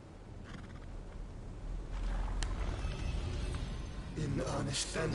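A many-legged horse creature neighs in the Final Fantasy XVI video game. The call rises near the end out of a dense, constant wash of game sound and rumble, moderately loud.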